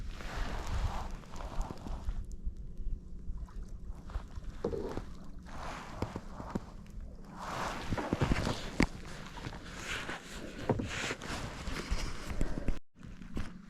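Kayak paddle strokes splashing and dripping on a lake, a steady irregular rhythm of nearby water sounds with occasional knocks against the hull and no talk.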